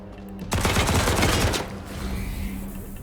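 Gunfire in the video game Wasteland 3: a rapid burst of loud shots lasts about a second and is followed by a fading, rumbling tail.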